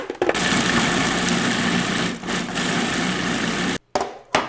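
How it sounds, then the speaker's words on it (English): A food processor shreds cabbage for sauerkraut with a loud, steady whirring grind that runs for several seconds, then cuts out abruptly, followed by a couple of brief restarts. "The joys of a good food processor."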